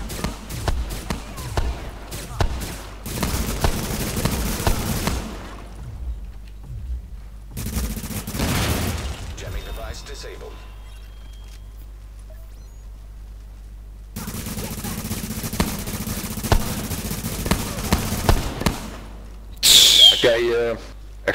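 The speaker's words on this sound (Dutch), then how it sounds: "Explosieve kogels." Explosive-bullet gunfire in The Division video game, loud rattling bursts in several long volleys broken by quiet gaps, with a sharp crack near the end.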